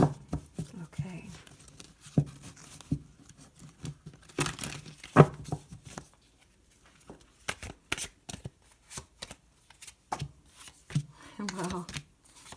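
Tarot cards are shuffled in soft riffling and slapping bursts, scattered and close, with a person talking quietly in between.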